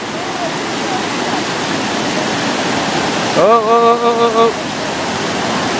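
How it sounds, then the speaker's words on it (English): A river below a suspension bridge gives a steady rush of flowing water throughout. A voice briefly exclaims over it, and a short tonal whine rises partway through. "And look at this river, it's unbelievable."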